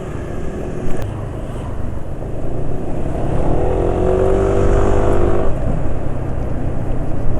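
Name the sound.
engine camshaft tappet ticking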